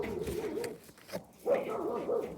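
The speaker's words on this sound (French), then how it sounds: "ça aboie partout dans le quartier" Dogs bark across a neighbourhood, a few muffled yelps rising over a low steady background hum, heard from a distance rather than close by.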